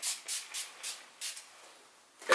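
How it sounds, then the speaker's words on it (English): Finny Matte setting spray misted onto a face, five or six short close hissing spritzes in quick succession, then a brief rustle at the end. "I spray it all over my face"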